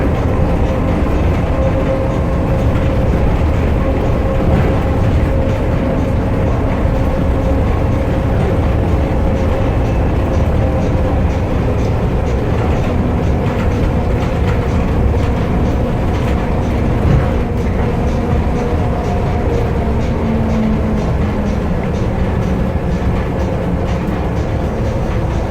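Steady rumble and rolling clatter of the Las Vegas monorail in motion, a continuous loud ride noise with faint rhythmic clicks over the full stretch and no talking.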